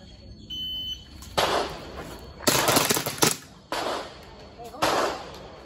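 Several sharp bursts of airsoft gun shots at a practical shooting practice, spaced a second or so apart, some doubled, against a quiet outdoor background.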